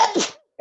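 A single sharp sneeze from someone during an online grant Q&A meeting, loud and close, followed after a short pause by a faint brief sound.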